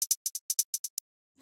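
A straight, unswung closed hi-hat pattern in a house drum beat taps out nine crisp, bright hits in an even run, then falls silent before a sudden new sound cuts in at the very end.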